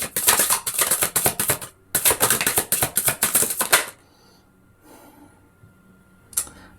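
Tarot cards being shuffled by hand, with rapid papery riffling and flicking in two dense bursts separated by a short pause, then quiet handling and a single card snap near the end.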